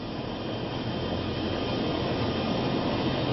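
Helicopter hovering over Niagara Falls, a steady loud rotor and engine roar with broad rushing noise, continuous and unbroken throughout.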